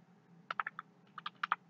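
Someone types on a computer keyboard in two quick bursts of about four keystrokes each, crisp clicks heard close but quiet over faint background hum.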